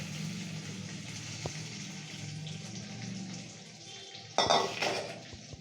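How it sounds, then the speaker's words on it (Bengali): A hot tempering of cumin, cardamom and cloves is poured into a white potato korma. Light clinks and a low simmer give way to a sudden loud sizzling burst near the end. "এইটা মা ওই কোরমার মধ্যে দেখুন ঢেলে দিচ্ছে"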